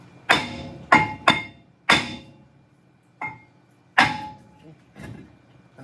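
A hammer strikes a brake rotor on a 2019 Ford F-150, six or seven sharp metallic blows spaced irregularly with ringing decay, loud and close, some lighter than others.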